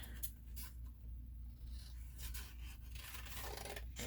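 Scissors snip and rasp through paper while cutting out a paper doll stand, faint close scraping and cutting strokes against a quiet background, no talking.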